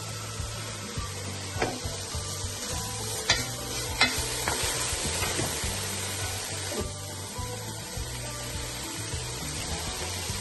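Onions fry in oil alongside bacon lardons, a steady low sizzle under a faint background hum, with clinks and scrapes of a utensil stirring in the first half. Nobody talks.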